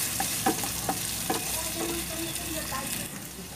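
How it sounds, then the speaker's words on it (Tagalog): Chopped onions sauté in a hot pan as the first step of a chicken hamonado, giving a steady close sizzle with a few soft stirring scrapes and taps throughout. "Umpisahan na natin ang paggigisa. Siyempre, ang unahin ko ang sibuyas."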